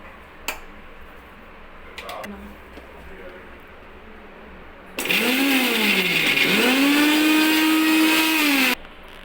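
A mixer grinder whirs loudly through ginger and garlic into paste, starting suddenly after a few quiet kitchen knocks, its motor pitch dipping and rising before it cuts off.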